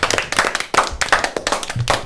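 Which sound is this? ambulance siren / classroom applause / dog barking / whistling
classroom applause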